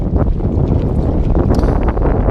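Strong wind buffets a microphone out on a choppy reservoir lake while fishing from a small boat, a loud continuous roar with rumbling gusts and splashing water throughout.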